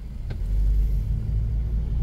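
A car cruising along Pali Highway in Honolulu, with a steady low road and engine rumble throughout, fairly loud and continuous, with no talking.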